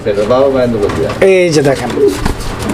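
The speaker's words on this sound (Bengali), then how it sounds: "মুন্ডিয়ানের একদম বিশাল বড় সাইজের কবুতর" Large Mundian pigeons coo in soft, repeated throaty rolls close by, with a voice talking over the birds.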